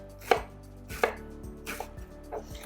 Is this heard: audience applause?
no